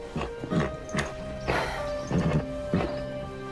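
A horse in a French animated series moves about with a few separate hoof knocks and thuds, fairly close, over a steady tonal background hum.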